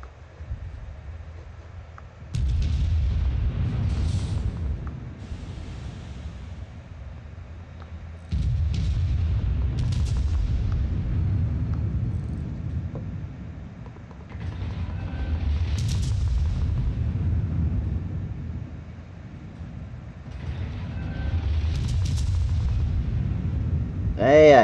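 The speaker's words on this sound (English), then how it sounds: "I'm gonna start shooting that battleship." Heavy naval guns fire at a battleship in the World of Warships game, coming as four long, deep rumbling salvos a few seconds apart, each a loud boom with a rolling tail.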